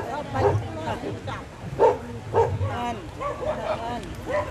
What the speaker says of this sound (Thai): เขาไม่ได้เห่าไล่ดิฉันนะคะ